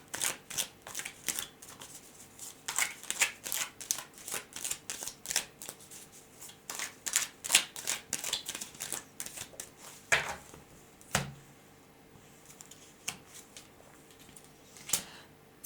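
A deck of tarot cards is shuffled by hand in a quiet room, a rapid run of crisp riffling flutters and soft taps that comes in bursts and ends in a few isolated snaps.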